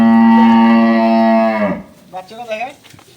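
A dairy cow on a farm that sells high-breed milking cows gives one long, loud, steady moo lasting about a second and a half, followed by brief low vocal sounds.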